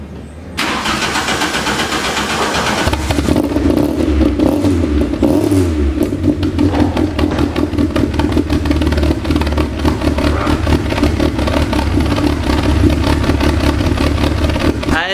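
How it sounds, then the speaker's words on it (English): A 2-litre 8-valve crossflow car engine fitted with individual throttle bodies fires up from cold in the early morning, then settles into a loud, steady, lumpy idle close by with no talk over it. "nice early morning cold start."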